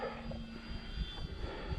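An OMP Bighorn RC model airplane drones steadily overhead on its maiden flight, a continuous engine whine holding level with a slight waver throughout, no voices present.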